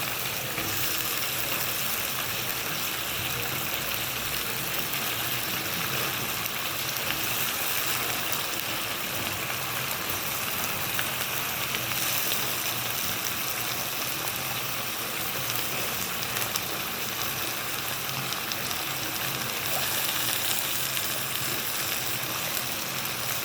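Cauliflower fries in spiced masala, giving a continuous, loud, close sizzle with faint stirring scrapes under it and no speech.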